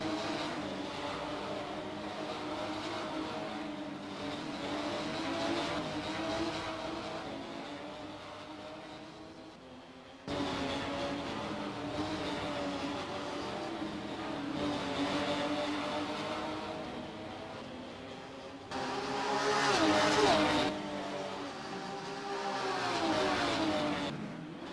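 Porsche race cars of the GSMF Cup at Oschersleben circuit, engines roaring past at a distance in several waves, rising and fading as cars pass, with one louder passing surge near the end.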